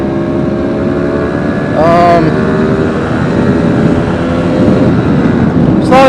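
A 1980 Vespa P200e 200cc two-stroke scooter rides along with a steady, buzzing engine drone and wind rush, loud and close throughout, rising briefly as it revs.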